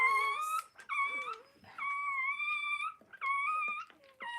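Newborn puppies, a litter of eight, whimper and squeal in close, high-pitched bursts, with short cries repeating in an uneven rhythm and brief quiet gaps between them.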